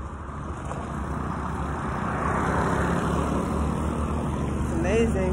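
A city bus rolls closer along a street in a Rwandan neighborhood, a broad rumbling engine that swells gradually over steady traffic noise, with a brief higher whine near the end.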